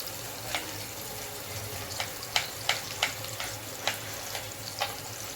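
Thinly sliced onions frying in oil for chicken biryani, a soft continuous sizzle with occasional sharp spatters and clinks, fairly faint and close, with no speech.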